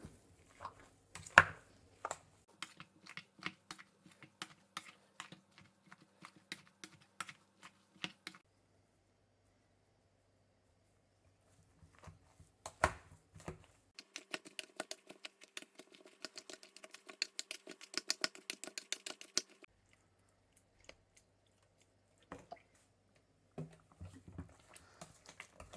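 Boiled potatoes are mashed into mashed potatoes with quick, irregular bursts of soft squishing and tapping, close and fairly quiet, broken by short pauses.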